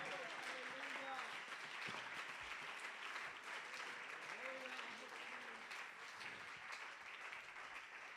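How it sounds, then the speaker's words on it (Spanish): A church congregation applauds during a sermon, a continuous wash of clapping heard at a distance with voices calling out over it. "dele ese aplauso al Señor"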